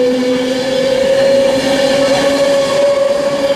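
A Pendolino electric train runs through Stafford station on the West Coast Main Line, a loud steady rumble with a sustained whine, close and continuous throughout, no talking.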